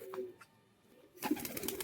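Pigeons kept for sale give a couple of soft coos, quiet and close, with a busier burst of bird sound near the end.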